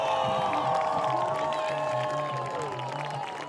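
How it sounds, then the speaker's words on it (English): Crowd at a high school football game in Wisconsin cheers under stadium lights, a dense sustained roar of voices with whistling tones, fairly loud and slowly easing off. "Getting the crowd hyped up, the 8th graders are."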